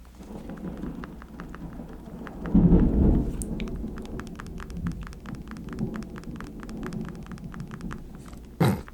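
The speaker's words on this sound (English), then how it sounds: "this natural kind of ambiance in the background where you can hear the thunder" Thunder from an approaching storm rolls in, with a loud deep rumble building midway and another brief swell near the end, over steady rain and scattered drips.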